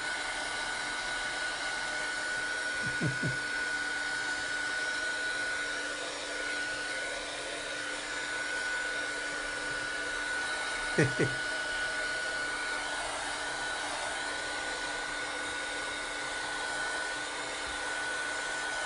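A hair dryer drying silver paint on air-dry clay blows continuously with a steady airy roar and a thin whine, interrupted by a couple of faint clicks, with no talking.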